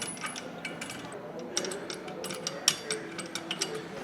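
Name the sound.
spinning a nut onto a bike's primary drive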